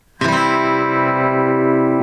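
A single guitar chord is strummed with the top string muted, starting cleanly after a brief quiet moment and ringing on steadily and evenly.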